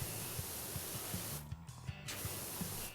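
A pressure washer sprays in PowerWash Simulator, a bright hissing jet that cuts out briefly twice before resuming, over soft rhythmic music in the background.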